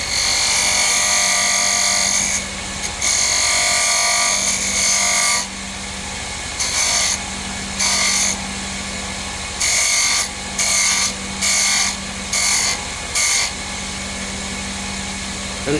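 Wood lathe spinning a chess rook blank while a spindle gouge cuts a smooth concave rounding, a steady motor hum under bursts of scraping and shaving that start and stop in short passes, close and loud.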